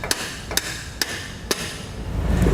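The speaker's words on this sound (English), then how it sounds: "then we can come back with a hammer and just tap it down" A hammer taps air spring bracket tabs into place on a 2008 Dodge fitted with Firestone Ride-Rite air helper springs, four sharp metallic strikes spaced about half a second apart, close by, with a rising rumble afterward.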